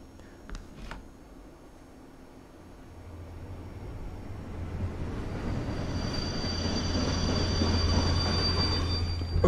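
A train in a video game rolls past with a rumble that swells louder and nearer over several seconds, with steady wheel squeal and clatter and no talk.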